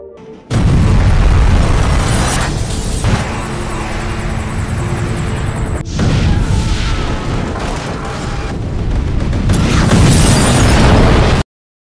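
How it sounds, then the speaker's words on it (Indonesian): A military missile strike in a film erupts in a loud boom, then a sustained roaring rumble of blast and debris with aircraft-like drones, surging again near the end before cutting out. "Tentu saja, ledakan menghancurkan segalanya"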